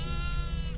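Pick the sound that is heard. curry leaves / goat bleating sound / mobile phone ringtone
goat bleating sound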